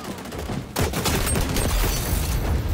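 Rapid weapon fire in the video game xDefiant crackles in a dense, fast burst, starting abruptly and continuing loudly to the end.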